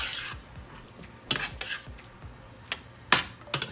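A utensil stirs pasta and other ingredients in a cooking pot, giving several sharp metallic clanks and scrapes spaced irregularly, close by, with no talking.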